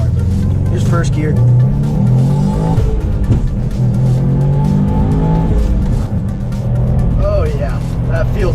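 A Subaru STI pulls hard in first gear, its engine revving loud and rising steadily from inside the cabin, with someone talking over the drone.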